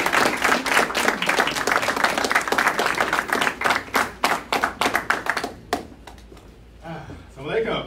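Applause from an audience welcoming a speaker at a religious gathering. Dense, loud clapping thins into scattered separate claps and then fades, and a voice begins speaking near the end.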